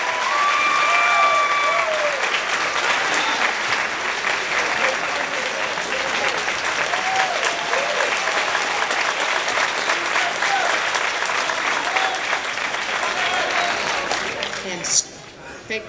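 A crowd at a natural bodybuilding show applauds loudly and steadily for about fifteen seconds, with scattered cheers and whistles mixed into the clapping.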